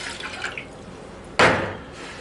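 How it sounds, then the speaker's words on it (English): A short burst of water splashes into a pan, loud and close, then trails off into a soft trickle. "To a saucepan, we're going to add in 1 3/4 cup of water"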